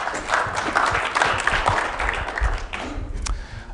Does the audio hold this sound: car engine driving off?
no